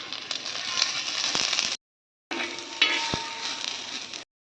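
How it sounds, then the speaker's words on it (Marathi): Onions fry in a little oil on a flat griddle pan, a bright, steady sizzle heard up close in two stretches split by a short silence, with occasional clinks of a utensil stirring. "आता मी कांदे थोडेसे लालसर भाजून घेणार आहे तव्यावर थोडंसं तेल टाकून घ्यायचं आहे"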